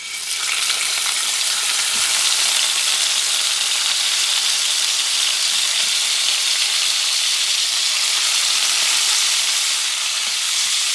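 Beef ribs searing in olive oil over medium-high heat for Puerto Rican rice with ribs, giving a loud, steady, close sizzle that holds unbroken throughout with no voices.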